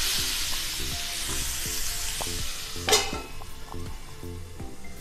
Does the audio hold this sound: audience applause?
no